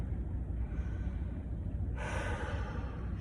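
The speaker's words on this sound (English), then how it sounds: "Take a few cleansing breaths again." Deep cleansing breaths after a gym workout, a long slow inhale followed by a louder airy exhale, heard close with no talk.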